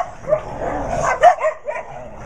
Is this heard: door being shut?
no